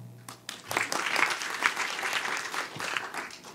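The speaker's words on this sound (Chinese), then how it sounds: "我们先掌声欢迎一下今天的" A conference audience at PyCon Taiwan 2019 breaks into applause to welcome a speaker, a burst of many hands clapping that swells quickly and holds at a moderate level before easing off.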